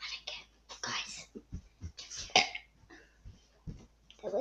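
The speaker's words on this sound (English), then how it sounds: "stop burping!" Several soft, close burps and throat sounds come in short bursts among quiet whispering and chatter indoors.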